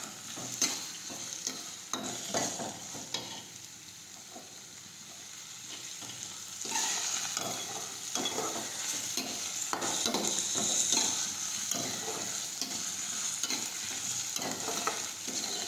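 Urad dal with grated ginger stirred in a pan, repeated scraping strokes of a spoon against the metal over a low continuous sizzle, close and steady throughout.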